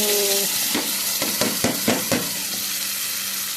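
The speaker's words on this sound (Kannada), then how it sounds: "ಇದು ಫ್ರೈ ಮಾಡಬೇಕು ನಾನು ಸ್ವಲ್ಪನೇ ಮಸಾಲ ಫ್ರೈ ಮಾಡಿದ್ದು" Ground masala frying in oil for a Mangalorean surmai fish curry, a steady close sizzle with a series of spoon stirs and scrapes against the pan.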